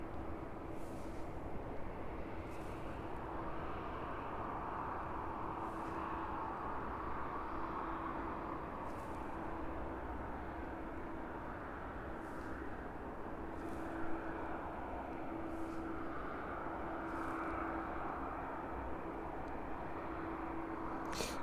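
A Ryanair airliner takes off from runway 27 at East Midlands Airport, a steady distant jet roar holding level throughout, with faint periodic clicks over a constant low hum.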